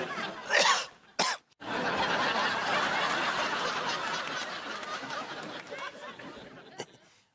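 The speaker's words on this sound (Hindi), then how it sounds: "भैया जे तो पहले ही खांस रहे हैं।" A man coughs in a short burst, followed by a long, rough, wheezing fit of coughing that gradually fades, with a brief chuckle-like sound toward the end.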